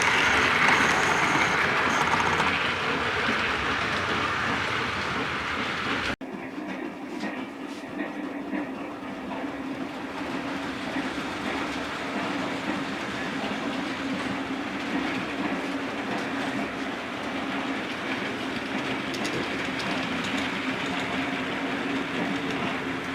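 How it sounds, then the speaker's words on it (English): A model train hauled by Jubilee 45682 on a Carlisle to Leeds service at Dent station rolls steadily past with continuous rail clatter and rumble, close and even throughout. "this is a Carlisle to Leeds service held by Jubilee 45682 Balga"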